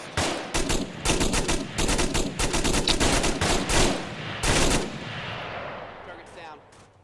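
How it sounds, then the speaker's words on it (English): Rapid bursts of gunfire crack out during squad training, dense repeated shots in clusters over several seconds, loud and close, then fading into a lingering echo; a voice is faintly heard in the background. "Shots are currently coming from the north."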